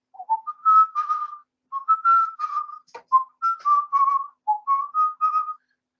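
A person whistles a short melody imitating a dove's song, a series of clear, separate phrases of rising and falling notes with brief pauses between, loud and close with no other sound.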